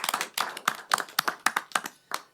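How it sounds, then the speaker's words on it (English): Brief round of applause from a small audience at a borough committee meeting, a few pairs of hands clapping in a loose, uneven rhythm for about two seconds, moderately distant in the room. "big round of applause."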